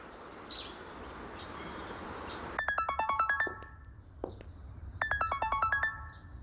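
A mobile phone rings for an incoming call, its bright electronic tone playing a short descending run twice with a pause between, clear and close in an otherwise quiet indoor room.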